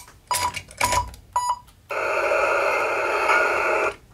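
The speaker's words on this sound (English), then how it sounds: "the sounds on the remote are extremely obnoxious" Remote for a Lionel Polar Express toy train set triggering sound effects: a few short electronic bursts, then a loud, sustained buzzy tone lasting about two seconds, close up with no talking.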